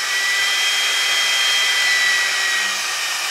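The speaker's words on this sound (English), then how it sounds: "So again, we turn the hairdryer on." A Ghd Duet 2-in-1 hair dryer runs continuously close by, a loud, steady airy roar with a thin high whine and no pauses.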